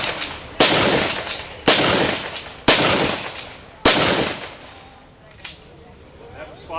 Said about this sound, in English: The sergeant's going to demonstrate the automatic weapon that he has.